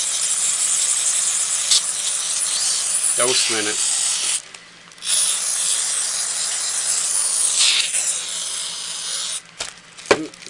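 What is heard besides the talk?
WD-40 spray can spraying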